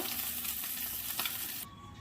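Oil sizzles steadily around a fried duck egg as salt and turmeric powder are stirred in, a close, continuous frying hiss with a brief scrape, then the sizzle drops off sharply near the end leaving a faint tone.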